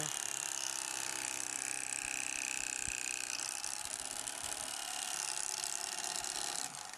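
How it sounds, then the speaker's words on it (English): An electric knife filleting fish along the backbone buzzes with a steady, close, mechanical whir that runs without a break and cuts off just before the end. "I'm starting off with the electric knife, and as you fillet them, the secret's to go to the backbone and cut straight down"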